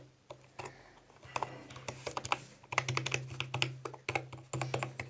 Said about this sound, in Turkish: klavyemizin klik hissiyatı şöyle.